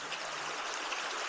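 A river flowing over small rapids, probably a trout stream, makes a steady broadband rush of water. The sound is continuous and fairly close, with no voices.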